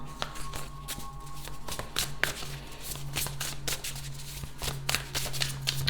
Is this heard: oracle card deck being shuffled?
yes